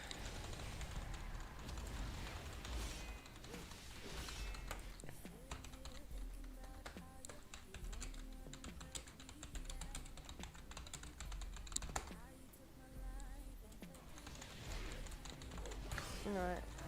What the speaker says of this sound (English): Nearly went the wrong direction because I was too busy typing